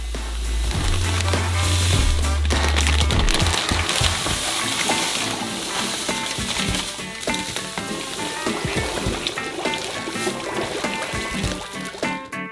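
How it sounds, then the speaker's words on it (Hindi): Sugar is poured into melted butter in a pan on a stove, and a loud, steady sizzle and crackle of hot fat persists throughout, with a brief low thump at the start. "हम इसे स्टव पर रखते हैं चीनी खोलेंगे और इसे पिघले हुए मक्खन में डालेंगे।"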